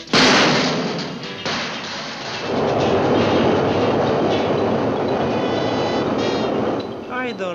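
A cartoon subway train in Paris rumbling loudly and steadily, a heavy roar that swells after a brief dip, with voices heard over the noise.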